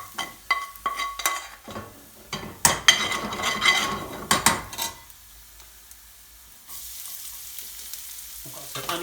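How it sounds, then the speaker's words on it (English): Garlic sizzles in hot oil before methi is added, with close spatula scrapes and pan clinks stirring it through a crackling fry that settles into a steady, quieter hiss. "So it's starting to change colour, the garlic, so we're going to add our methi in there."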